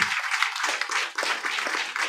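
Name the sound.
congregation clapping hands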